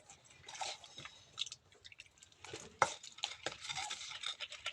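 Chili being pounded in a mortar for a rustic papaya salad, with fish sauce and tamarind added, sounds as irregular close knocks and scraping thuds with a wet, crunchy edge, one sharper hit standing out midway.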